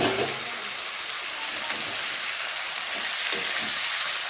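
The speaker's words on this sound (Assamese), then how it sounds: "এতিয়া ফ্ৰাই কৰি লওঁ, মাছ কেইপিচ দি দিম" Fish pieces frying in a pan with vegetables, a steady close hiss of sizzling oil with faint stirring sounds, no voices.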